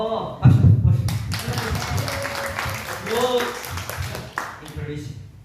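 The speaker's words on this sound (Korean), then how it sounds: "박수." Congregation clapping at a church gathering at a Jesus mission in Banilad, a burst of hand claps with taps and thumps that continues under steady talking voices.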